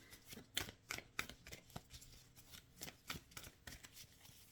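Playing cards are shuffled quietly in a run of soft, irregular riffles and flicks, close but faint, with no talking.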